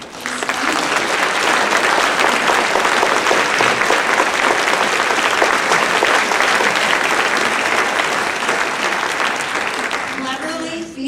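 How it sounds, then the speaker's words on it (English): Theater audience at a band concert applauding loudly, a thick, sustained wash of clapping that runs at full strength for about ten seconds before starting to thin out. "Please join me in a round of applause as we are honored to have Mr. Darrell Wiley in attendance with us today."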